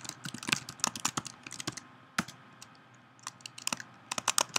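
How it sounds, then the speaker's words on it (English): Rapid, close clicking of keys on a computer keyboard in uneven bursts, with a brief pause near the middle before the typing resumes, and no voices. "I'll just type this all out"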